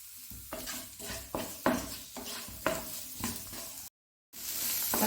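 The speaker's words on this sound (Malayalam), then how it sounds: "ഇഞ്ചിയും വെളുത്തുള്ളിയും കൂടി ഇട്ട് കൊടുക്കാം ഇത് നല്ലപോലെ ഒന്ന് വഴറ്റിയെടുക്കാം" Onion sautéing with crushed ginger and garlic in a pan for a Kerala-style tomato curry, a steady sizzle broken by repeated stirring scrapes of a spoon against the pan, close and alone.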